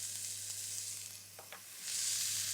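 Roughly chopped garlic with onions sizzles quietly in a hot pan, a soft constant hiss with a couple of brief stirring scrapes before the frying swells louder at the end.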